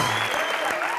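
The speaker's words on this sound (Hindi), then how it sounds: "जोरदार ताली इन सबके लिए।" Studio audience applause on a Hindi TV comedy show, a dense steady burst of clapping filling the whole moment with a faint whistle-like tone riding over it.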